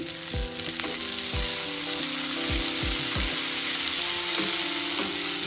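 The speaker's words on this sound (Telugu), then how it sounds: "కడాయి పెట్టి ఆయిల్ వేసి తరిగిన ఉల్లిపాయలు, మిర్చి వేగనివ్వాలి" Chopped onions, green chillies, mint and coriander frying in oil in a kadai, with a loud continuous sizzle and a handful of sharp spatula scrapes and knocks against the pan, close up and with no one speaking.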